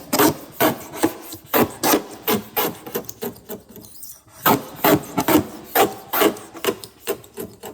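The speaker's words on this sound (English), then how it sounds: "And sometimes, like there, I just broke my blade when it caught on that. I was taking too much of a cut, but you can keep scraping." Steady, rhythmic strokes of a hand blade scraping paint from the body of a C3 Corvette, each pass a loud, close rasp with a brief pause midway, no talking.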